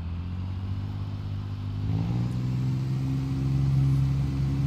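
Truck engine in Euro Truck Simulator 2 (Mercedes-Benz 1938S) reversing, a steady low drone that steps up in pitch partway through as the revs climb, loud and close with no talking.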